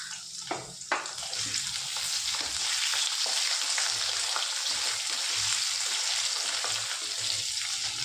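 Cut potatoes frying in a pan after onions have browned, a loud continuous hiss and sizzle with scraping stir strokes, close up and without talk.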